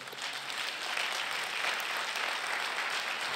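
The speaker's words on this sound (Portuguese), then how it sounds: "Você pode dar um aplauso a ele?" An audience at a pastors' gathering claps together in a dense, steady round of applause that holds at an even level for several seconds, with no speech over it.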